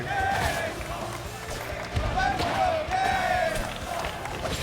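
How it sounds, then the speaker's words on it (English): A large arena crowd at an esports fighting-game grand final (Rivals of Aether II) chants and roars steadily in a dense, echoing wash of voices, with surges of cheering throughout. "And the crowd is chanting, and I genuinely can't tell who for"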